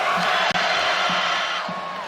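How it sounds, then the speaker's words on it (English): Basketball crowd at a college game between Florida and Georgia, a steady loud arena roar of mixed shouts and jeers rising in displeasure after a foul, broad and sustained throughout with no distinct talk on top. "Crowd voicing their displeasure with the foul in general."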